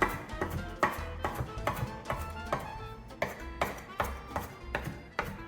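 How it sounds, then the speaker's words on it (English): A knife roughly chops parsley on a cutting board, giving a steady series of sharp, close, rhythmic taps, about two per second. "Just lay them out and give them a rough chop over the entire thing"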